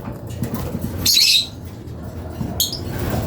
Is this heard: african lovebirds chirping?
yes